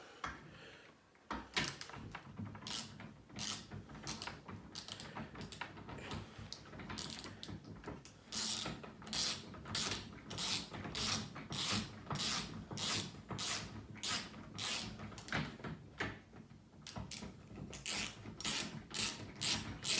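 A universal ratchet set in reverse gives rapid, crisp metallic clicking in quick repeated bursts as the handle is spun, close and clear with brief pauses between rotations.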